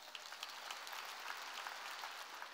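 A congregation in church applauds together, a dense, steady wash of many hands clapping at even loudness throughout, with no voices rising above it.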